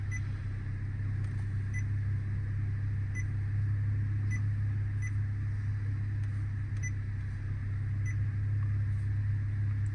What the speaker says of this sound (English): If you're not a fan of that beep, you can turn it off as well.